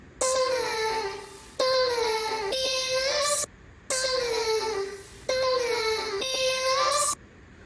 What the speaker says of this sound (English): we've got this actual vocal chop coming up here, and without the volume automation